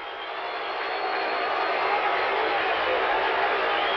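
Mets fans in a 1985 ballpark crowd against the Reds send up a broad, steady, distant roar of cheering that swells slightly and holds throughout.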